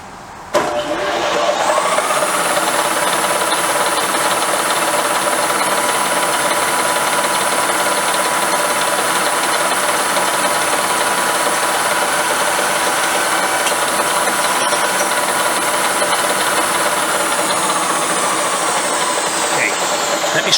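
A power drill boring through a part for a Royal Enfield 350 trials motorcycle, running as one loud, steady, close whine that holds evenly for about twenty seconds.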